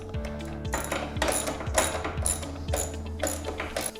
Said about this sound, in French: On va venir serrer ça au ratchet.